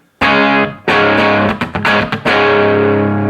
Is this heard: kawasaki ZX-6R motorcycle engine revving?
no